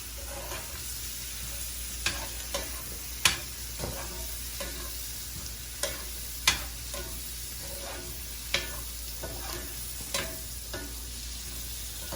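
Sausage fries in a pan with a steady, soft sizzle, broken by occasional sharp pops and clicks of stirring at irregular intervals, with no one speaking.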